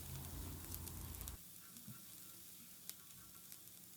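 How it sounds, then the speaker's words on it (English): Garlic sizzles in butter in a pan over a medium flame, a close, steady frying hiss that drops suddenly to a quieter, softer sizzle partway through. "We'll now saute the garlic on medium flame until they turn slightly"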